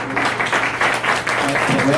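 Audience clapping at a public talk, brief and fairly loud, with speech-like sounds mixed in.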